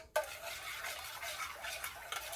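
A utensil stirs caramel in a pan greased with cooking spray, a continuous scraping and swishing with light metallic clinks, close and steady throughout, with no talking.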